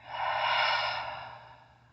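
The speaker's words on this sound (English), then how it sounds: "Let's inhale in together. And let's exhale together." A single deep exhaled breath during a guided relaxation session, rising quickly and then tapering off gradually over about two seconds, soft and close with no talking.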